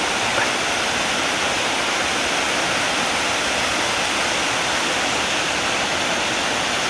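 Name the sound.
small stream waterfall in woods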